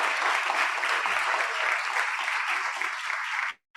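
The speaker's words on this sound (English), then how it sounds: "a round of applause and thanks to Dr." An audience at a health summit applauds Dr. Dwayne Hall with steady, dense clapping that holds at an even level for about three and a half seconds, then cuts off abruptly.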